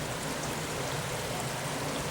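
River flowing nearby: a steady, dense rushing wash of water, even and continuous throughout, with no voices.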